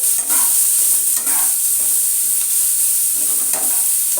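Chopped onion frying in oil over a low gas flame, giving a steady close hiss with occasional stirring scrapes and no voices.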